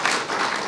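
Audience applause at the close of a HOPE X hacker conference talk, a dense, steady wash of many hands clapping at once, fairly loud and continuous with no voices over it.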